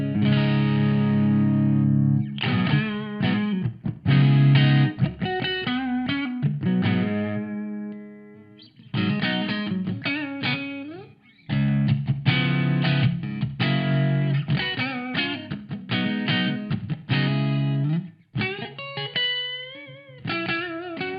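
An electric guitar played through a software drive pedal set to its mod mode gives distorted, modulated chords and single-note phrases with pauses between bursts, loud and direct, with no talking.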